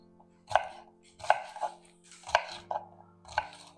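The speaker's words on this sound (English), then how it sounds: "we're going to thinly chop these" A knife thinly chops onions on a cutting board, with crisp, evenly spaced strokes landing about every three quarters of a second, each one close and distinct against a quiet background.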